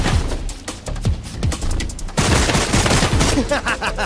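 Rapid bursts of gunfire in the Wuthering Waves story quest, dense overlapping shots and thuds firing loudly for several seconds, with game effects layered underneath.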